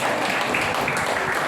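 A seated audience at an Indonesian alumni gathering claps briefly, a dense, even wash of hand claps with no pauses or voices standing out.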